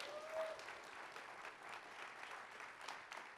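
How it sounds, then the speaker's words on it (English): A festival audience claps for event volunteers, a fairly quiet, even stretch of many hands applauding in a large room, continuing without a break and without talk. "A round of applause for our volunteers,"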